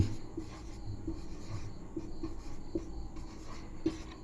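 Writing out a divisibility rule in a maths lesson produces steady, close scratchy strokes in short repeated bursts and pauses, with no talk over it.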